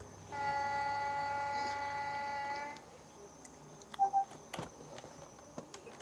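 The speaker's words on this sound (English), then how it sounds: "Of course, there's trains in Minecraft." A train horn in a Minecraft video game sounds a sustained harmonic tone for about two seconds, followed by faint clicks and short beeps at low level.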